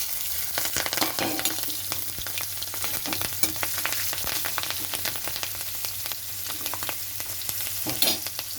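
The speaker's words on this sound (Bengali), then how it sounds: "ওই তেলের মধ্যে আমি দিয়ে দিচ্ছি গোটা জিরে, তেজপাতা, কাঁচা লঙ্কা।" Whole cumin, bay leaves and green chillies sizzle in hot oil left from frying aubergine, a dense, steady crackle with scraping stirs, close and loud throughout.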